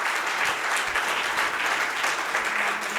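Audience applause from a crowd at a talk, dense steady clapping filling the whole stretch, loud and close with no voices standing out.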